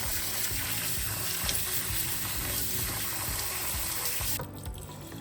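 Water runs steadily into a pot of rice on a stove for rice pudding made with coconut milk, a continuous dense rushing splash that holds even and loud before dropping away near the end.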